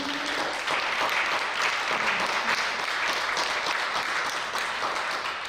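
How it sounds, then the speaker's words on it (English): An audience at a STEM education forum claps warmly for several seconds, a dense, sustained applause that fades slightly toward the end. "can we give a round of applause for coming up?"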